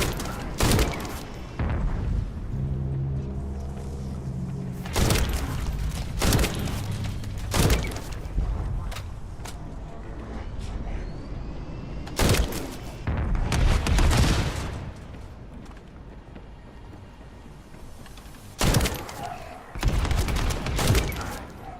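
A semi-automatic gun fires in The First Descendant, loud irregular shots setting off booming explosions with heavy low thuds and crashing bursts that repeat in clusters across the stretch, with a faint tonal hum between blasts.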